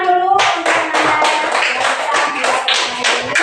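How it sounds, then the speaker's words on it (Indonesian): A classroom of students clapping hands together in a religious education lesson, loud, close and rhythmic, with quick sharp claps in a steady patter after a brief spoken word at the start. "Tepuk tangan dulu."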